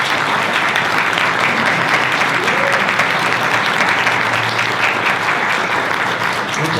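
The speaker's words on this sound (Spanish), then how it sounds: "Quisiera primero pedir un fuerte aplauso para nuestros invitados." A large audience claps for invited guests at an arts discussion event in a museum, a dense, steady roar of applause that fills the whole stretch without pause or voices.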